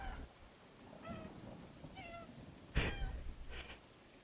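Cat meows in the video game Stray, several short tonal calls spaced through the clip, with one louder, closer meow near the end over a low background.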